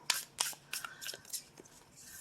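Tarot cards are shuffled by hand in short, crisp riffling bursts, several quick flutters and taps close up, with no talking.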